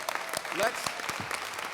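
An audience at a CBTU 2019 convention session applauds first-time attendees, a short burst of clapping with a few distinct sharp claps, while a voice talks briefly over it.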